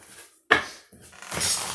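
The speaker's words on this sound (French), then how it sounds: "je vais bien le mélanger pour bien mélanger les cartes" An oracle card deck being shuffled close by: a few quick papery riffling bursts with short pauses between them, no voices.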